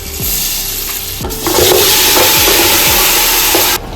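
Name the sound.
stirring spice masala frying in oil for mutton paya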